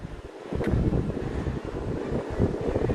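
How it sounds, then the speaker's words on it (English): Wind gusts buffet the microphone outdoors during a sunrise walk-run at Walt Disney World, a steady broadband rumble with rising and falling swells that fills the whole stretch. "I know there's a little wind in this space"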